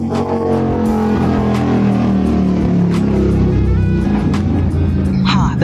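Loud cars pass close by on a busy road near the Mount of Olives in Jerusalem, a continuous heavy engine rumble and road roar. It is loud throughout, and people talk over it.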